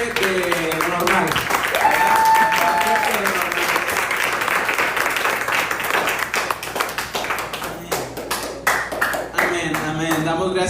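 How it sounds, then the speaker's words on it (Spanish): A church congregation at a Spanish-language service applauds loudly and continuously, the dense clapping thinning into scattered claps near the end, with voices mixed in. "podemos darle un fuerte aplauso al Señor"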